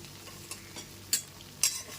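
Potatoes and taro frying in a pan are stirred with a utensil, giving faint scraping strokes and a couple of sharper clinks over a soft, quiet sizzle.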